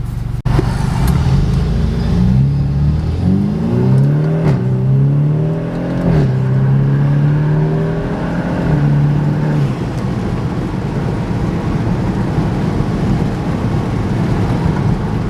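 A BMW F31 wagon fitted with an upgraded intercooler and boost pipe accelerates hard, its engine note rising through several gear pulls with brief dips between shifts, loud and close, then settling into a steady cruising drone.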